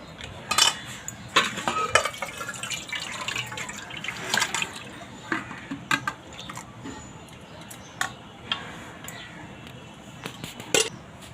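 Boiled tomatoes tipped from a pot into a bowl for homemade tomato sauce, heard as scattered clinks of utensils and cookware with wet sloshing, close and moderately loud, several sharp knocks through the clip.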